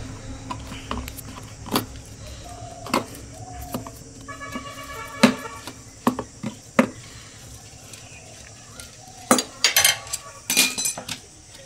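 A 10 mm wrench works nuts loose on a TVS Star City motorcycle, with irregular metallic clinks, taps and jangles spread across the span, close and fairly loud with quiet gaps between.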